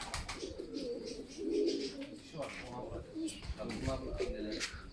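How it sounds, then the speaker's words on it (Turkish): Crested tumbler pigeons in a coop cooing steadily and close by, with overlapping soft throaty calls and some talk underneath. "Takkalı oyun kuşları."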